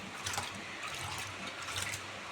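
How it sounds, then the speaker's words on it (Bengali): Rice being washed by hand in water for khichuri, a steady close swishing and sloshing with soft splashes and no pauses, without any talk. "ওই চালটা ধুয়ে নেব।"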